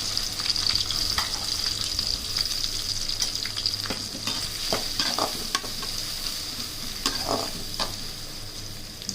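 Sliced onions sauté in hot oil with garlic for a prawn fry, a steady broadband sizzle with repeated scraping stir strokes of a spatula against the pan, close and continuous with no voices.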